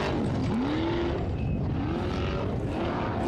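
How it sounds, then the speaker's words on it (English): A Pro Lights off-road race truck's V8 engine screams at an off-road race, loud and continuous, its pitch sweeping up and down through repeated throttle changes, with no talking. "Just listen to the sound of Barry's truck. Thing just sings."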